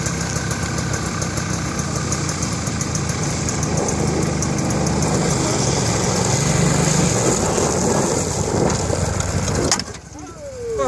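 A Honda Pilot buggy fitted with a GSX-R600 engine races its last lap, screaming loud and close at sustained high revs, then cuts off sharply near the end to a lower idle.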